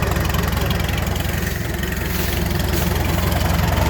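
A 1936 Farmall F-20 tractor engine runs steadily nearby with a loud, rhythmic low chugging that holds an even pace throughout, no voices over it.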